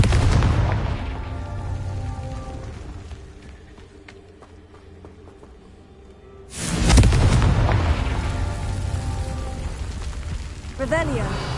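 A Confringo blast spell exploding in Hogwarts Legacy: a heavy booming burst that fades into rumble, then a second loud explosion erupts, with game sounds continuing behind.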